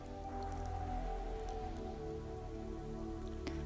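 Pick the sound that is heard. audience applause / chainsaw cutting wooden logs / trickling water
trickling water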